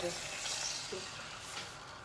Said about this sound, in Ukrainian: І заливаємо трошки водою.